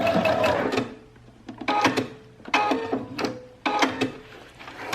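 A sewing machine stitches a fabric book cover, running in several short whirring bursts separated by brief pauses, close and fairly loud.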